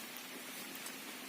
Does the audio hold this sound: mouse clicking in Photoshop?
no